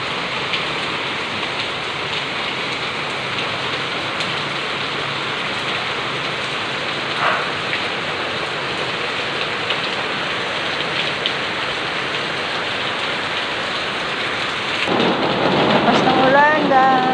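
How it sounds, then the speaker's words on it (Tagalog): Heavy rain pours steadily in Manila during a typhoon, a dense continuous hiss of drops on surfaces, with a brief louder splash or clatter near the end and no talk. "Lakas ng ulan, guys."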